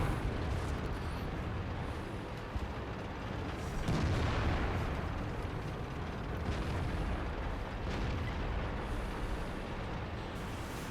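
Heavy cannon fire and rumbling explosions in a World of Tanks battle, a loud boom with a long rolling tail around the middle over a constant engine and battlefield drone.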